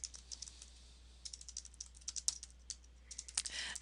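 Clicky typing on a new computer keyboard, close and clear, with irregular bursts of keystrokes and short pauses between runs.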